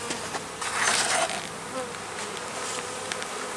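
Honey bees buzz steadily from an opened two-deep hive box, a dense insect drone that swells briefly near the start and then settles into a constant hum with no voices.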